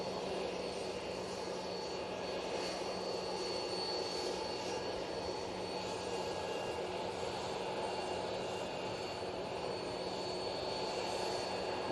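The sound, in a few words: Aer Lingus airliner coming over, bound for Dublin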